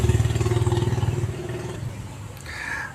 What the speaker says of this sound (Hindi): शायद आपको बीच बीच में गाड़ियों की आवाज़ सुनाई दे